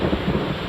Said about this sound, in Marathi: गडचिरोली जिल्ह्यामध्ये जोरदार पाऊस कोसळतोय